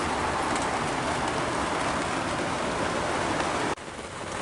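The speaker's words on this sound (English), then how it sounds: "but it is absolutely pouring." Heavy rain pours steadily outside a coffee shop, a loud dense hiss with no speech, cutting off abruptly near the end to a softer wash.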